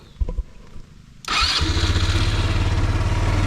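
A motorcycle-type engine is started outdoors near flooded rice fields: a few clicks, then a sudden crank and catch, and it settles into a steady, loud, rhythmic idle close by.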